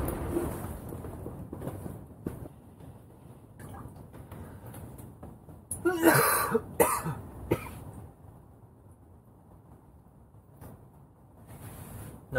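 A person coughs on a windy ice fishing outing, a short burst of harsh coughs in the middle, with gusty wind rumbling around it.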